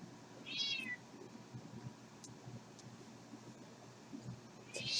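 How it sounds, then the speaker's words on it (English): A cat meows twice from the floor indoors, two short rising cries near the start and end, over a steady background hum like a fan. "The cat is on the floor yelling at me."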